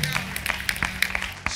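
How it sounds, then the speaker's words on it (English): Scattered hand claps from mourners at a Baptist church funeral service, a sparse, irregular run of sharp individual claps rather than full applause, with faint voices underneath. "Would you clap your hands for Dr. Rivers today?"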